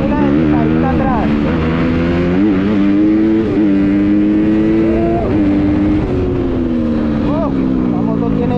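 Honda CRF 250 dirt bike engine revving hard through the gears, loud and close, with repeated rising pitch sweeps as it accelerates and shifts.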